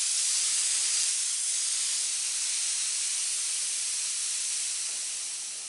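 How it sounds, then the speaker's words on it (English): Compressed air hisses steadily from a paint spray gun blowing over freshly painted metal to speed drying, a continuous close, bright rush that fades slightly at the end. "take your gun itself and just use the air pressure and speed up the drying process"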